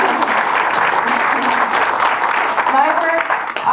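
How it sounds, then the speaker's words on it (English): Audience applauding volunteers at a conservation event, a broad wash of clapping throughout, with some talk and murmuring mixed in toward the end. "I think I should give you guys a round of applause"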